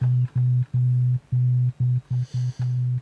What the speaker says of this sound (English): it becomes just a sine wave bass